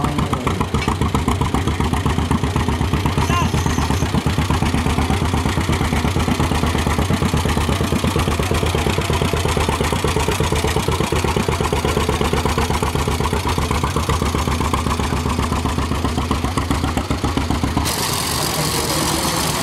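An old hay baler's engine runs at a steam and gas engine show, a steady close throb with rapid mechanical clatter that holds unbroken for the whole stretch.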